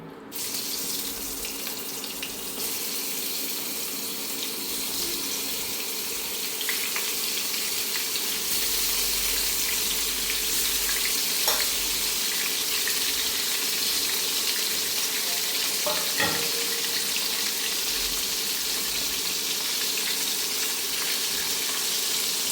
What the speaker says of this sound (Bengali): তেলটা গরম হয়ে গেছে, আমি দিয়ে দেব মাছগুলি।